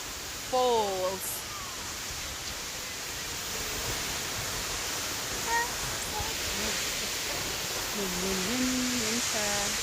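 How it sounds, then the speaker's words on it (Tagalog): Bridal Veil waterfall in New Zealand pours with a steady, broad hiss of rushing water throughout, while a person talks and exclaims over it. "Yan yung ating napakagandang"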